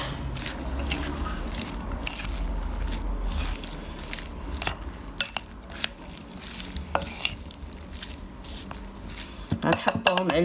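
A spoon stirs and scrapes around a bowl mixing ingredients for Moroccan stuffed batbout bread, with irregular clinks and taps, and the sound turns wetter and busier near the end.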